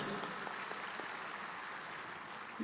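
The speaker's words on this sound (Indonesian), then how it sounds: "Tepuk tangan untuk beliau." An audience at a 2023 coordination meeting applauds, producing a steady, moderately loud wash of many hands clapping that holds at a constant level throughout.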